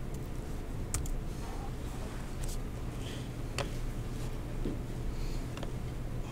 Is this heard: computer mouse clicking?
yes